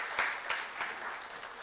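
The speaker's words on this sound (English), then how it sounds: "I think we can clap for him." Faint audience applause at a conference hall during an annual general meeting, a soft, even wash of distant clapping with a few sharper claps standing out over roughly two seconds.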